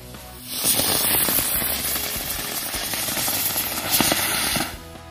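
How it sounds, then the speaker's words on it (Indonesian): A Batman COVID-19 firecracker goes off at night, giving a sustained loud hissing, crackling roar of about four seconds that starts abruptly, holds steady and cuts off, with no talk. "kita nyalain mercon Batman COVID-19"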